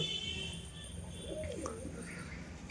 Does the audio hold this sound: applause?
no